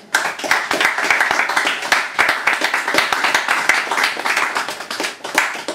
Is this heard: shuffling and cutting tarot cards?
no